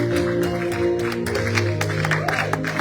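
A church congregation at a Sunday service in Houston claps and cheers to acclaim Jesus, with sharp scattered claps and crowd noise over sustained keyboard chords. Some voices can be heard mixed in.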